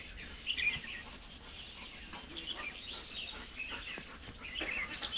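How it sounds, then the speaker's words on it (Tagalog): Many birds chirp near a clubhouse on a foggy morning, with bright scattered calls over steady outdoor noise and no talking. "Ang daming ibon."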